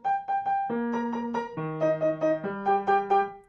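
Piano plays a simple melody of single bass notes under repeated octave notes above, clear and close, with a sparse, thin texture.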